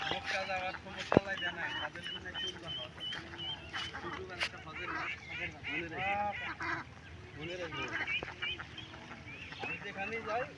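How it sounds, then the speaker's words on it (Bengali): Young ducklings gather in a muddy cut dug into a cultivated field, their soft peeping and quacking calls rising and falling in short bursts while people talk nearby. "এখানে কতগুলো হাঁসের বাচ্চা একদম"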